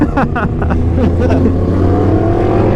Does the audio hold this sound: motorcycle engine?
yes